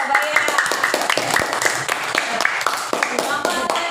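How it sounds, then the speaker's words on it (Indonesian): Fifth-grade schoolchildren in a classroom clap together for a group presentation, a brisk, uneven burst of many small hands mixed with children's voices talking over the clapping. "Ayo tepuk tangan untuk kelompok bayam."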